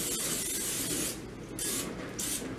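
Cooking spray hisses onto a 9 by 9 glass baking dish in a home kitchen, one long spritz followed by a few shorter, close bursts with brief pauses between them.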